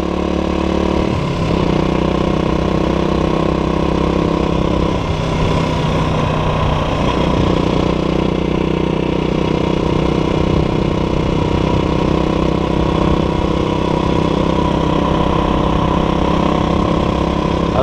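A motorcycle idles on a roadside during a trip through Roraima, Brazil, a steady close engine drone that shifts briefly near the start, with no voices.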